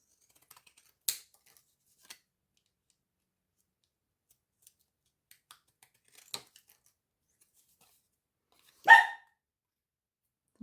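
Scissors snipping through card while making a baby boy greeting card, with a few short, crisp cuts spread out and one louder rustling snip near the end, close and quiet, no talking.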